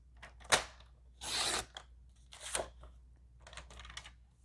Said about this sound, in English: We're going to cut it in half at 4 1/4, the long ways.